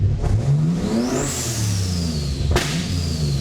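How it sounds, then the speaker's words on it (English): A turbo V12 engine swapped into a Toyota Cressida revs up and down while idling in neutral, with a sharp backfire pop near the end; loud and close, no talking. "Ooh, backfiring."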